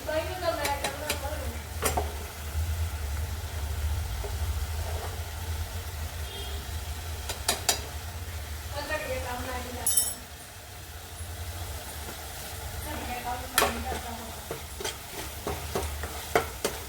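Green chillies and turmeric fry in a pan on a gas stove, giving a steady low sizzle with scattered stirring scrapes and clinks recurring throughout.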